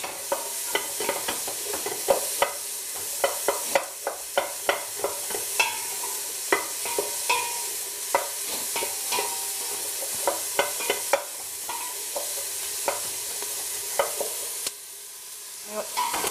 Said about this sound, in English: once the oil is nice and warm, we can start adding the onions. Give them a little stir around.